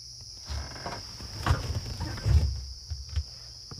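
Cicada calling on an evening safari drive, a steady high-pitched buzz running throughout beside a second tone, with faint rustles and footstep-like thumps underneath.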